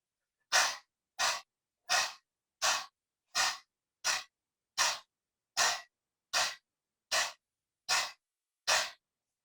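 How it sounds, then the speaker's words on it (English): Rapid dog-breathing yoga exercise, with the mouth wide open and the tongue out, heard as twelve sharp, evenly spaced panting exhalations, close and clear against near silence. "So that is called dog breathing."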